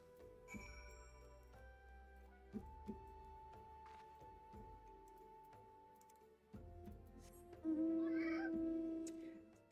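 A cat meows in Final Fantasy XIV, one drawn-out tonal call near the end, over quiet game ambience with faint ticking and jingling.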